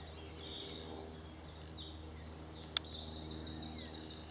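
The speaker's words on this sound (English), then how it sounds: "Plenty of bird song, as you can hear." Faint bird calls and chirps drift over a quiet countryside background on a walk between Leigh and Tunbridge Wells, with one sharp click partway through.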